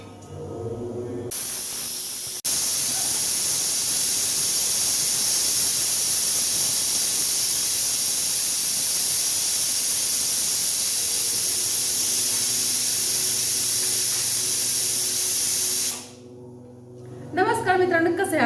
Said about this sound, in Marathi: आणि आता फोडणी द्यायची वरणाला.